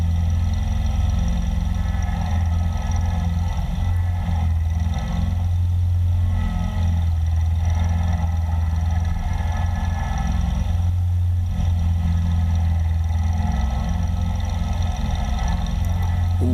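A loud, steady tractor engine drone rumbles continuously throughout, deep and close, with slight surges in intensity.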